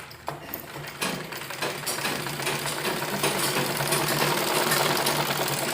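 A sewing machine runs steadily, laying a loose basting stitch through saree fabric being made into a salwar-kameez. The stitching whirs close and continuous, building slightly in loudness after a brief start.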